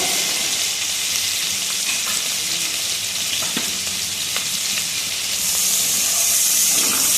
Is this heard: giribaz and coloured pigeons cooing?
no